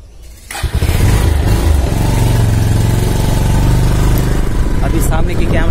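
A motorcycle on a village road kicks to life with a sharp start, then settles into a loud, steady close-up engine run, with some voices in the background.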